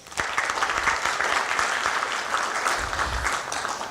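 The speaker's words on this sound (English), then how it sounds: "please give them a very loud round of applause" Loud, steady applause from a conference audience for a panel leaving the stage, dense clapping sustained evenly throughout with a few low thumps.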